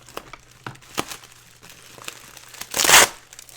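Packaging being unwrapped by hand: scattered crinkles and short tearing sounds, then a loud, close rip of tape-covered plastic near the end, with quiet pauses between.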